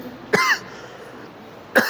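Two sharp coughs from a person, one near the start with a brief rasping tail and another at the end, separated by quiet room tone.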